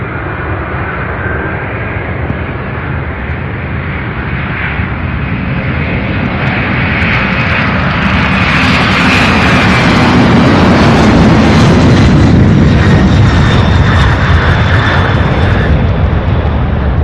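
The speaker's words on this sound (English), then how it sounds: "Beautiful MD-11." A McDonnell Douglas MD-11 jet at Louisville International Airport roars loudly, with the engine noise swelling as it passes close by and then easing slightly, heard alone without talk.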